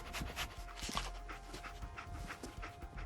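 Dogmeat, the dog companion in Fallout 4, pants steadily with quick breathy bursts and soft sniffs while searching for a scent, close and continuous over a low background hum.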